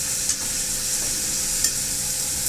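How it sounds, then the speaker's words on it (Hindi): Eggplant and potato pieces stirred through fried onions in a pan for baigan aloo sabzi, a close, continuous sizzle with a couple of soft spoon scrapes and no voices. "ये जैसे ही प्याज भून गया था, मैंने इसमें डाल दी है सब्जियां। सब्जी में बैगन और आलू"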